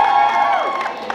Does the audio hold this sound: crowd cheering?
yes